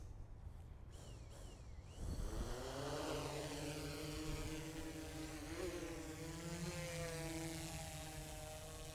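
A DJI drone spins up and lifts off after a couple of seconds of quiet, its rotors rising into a loud, steady, close buzzing whine that wavers in pitch as it climbs.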